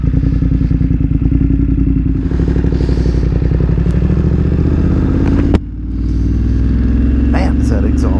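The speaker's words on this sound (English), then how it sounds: "Man, is that exhaust loud." A 2022 BMW F900R motorcycle with a loud exhaust runs steadily near the microphone, its deep pulsing engine note holding strong before a sharp click and a brief dip, then resuming.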